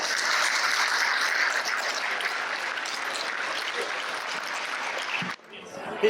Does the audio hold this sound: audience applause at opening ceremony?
yes